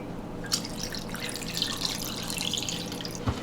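Water is poured into the inner pot of an Instant Pot for miso ramen, a quiet running trickle with scattered drips and splashes.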